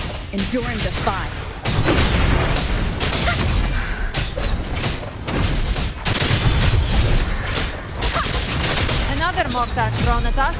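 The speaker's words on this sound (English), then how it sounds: "Another mortar thrown at us." Mortar explosions in the game Wuthering Waves erupt as repeated booms and bursts in dense combat noise, with voices and music layered throughout.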